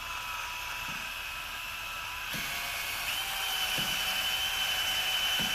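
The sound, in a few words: drill with abrasive pad polishing bore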